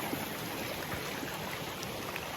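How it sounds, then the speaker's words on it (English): Seasonal mountain streams on a Colorado trail rush after rain, a steady, soft broadband water hiss with faint trickling detail and no voices. "Seasonal streams."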